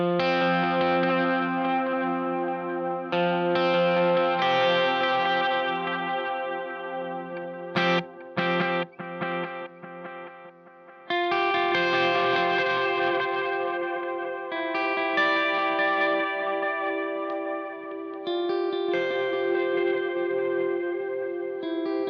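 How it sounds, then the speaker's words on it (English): Guitar runs through a Strymon El Capistan set to quarter notes and an Electro-Harmonix Memory Man set to dotted eighths, with sustained chorused, distorted tones and interlocking echo repeats that ring steadily for over twenty seconds, briefly thinning midway. "the El Capistan a quarter note and give the Memory Man a dotted eighth, and that would sound like"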